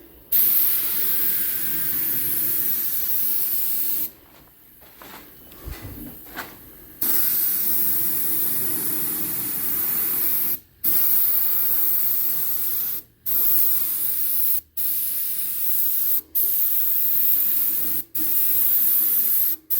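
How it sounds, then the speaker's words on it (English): A detail airbrush sprays paint onto a masked model plane, a sharp steady hiss in long bursts, broken by a short pause and then a series of quick on-off releases, close and loud. "This thing does not shoot a lot of paint out. It's just a detail brush, airbrush."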